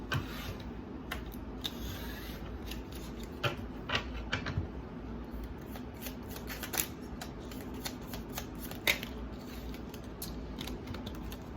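Tarot cards are shuffled repeatedly up close, with irregular soft riffles, slaps and flicks over a quiet room background.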